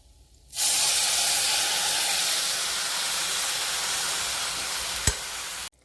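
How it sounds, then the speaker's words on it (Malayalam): Tamarind water poured into a hot pan of bitter gourd, a sudden loud hiss of steam and spray that holds steadily for several seconds, with a brief clink near the end before it cuts off. "ഇനി നമുക്ക് പുളിവെള്ളം ഒഴിച്ചു കൊടുക്കാം"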